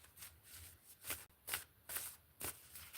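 Tarot cards are shuffled in a series of crisp riffling bursts about every half second, close but faint, with no voices.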